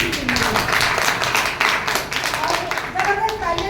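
An audience claps and applauds at a recognition event, with scattered, rhythmic hand claps at moderate loudness running under a voice speaking over them.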